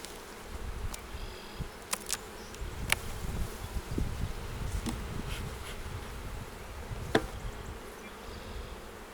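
Honey bees buzz in a dense, continuous drone around an opened beehive with brood frames at a conservation area in southwestern Ontario, with scattered louder passes of bees flying close and no talk.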